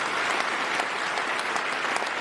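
An audience bursts into steady, loud applause at a motivational business event, a dense crackle of many hands clapping without a break.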